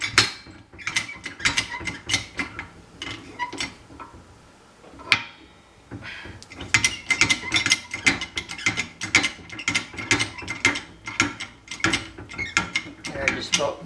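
A hydraulic press is pumped down onto a punch, producing rapid repeated ratcheting clicks and mechanical clacks from the pump handle, loud and close, with a short pause partway through, no talking.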